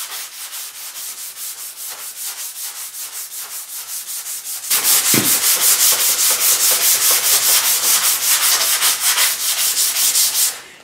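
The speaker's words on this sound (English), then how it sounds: "when I'm sanding the saw blade and it gets a lot of rust buildup" Sandpaper rubs rhythmically across a rusty saw blade in quick back-and-forth strokes, getting louder and harsher halfway through, close and steady with no speech.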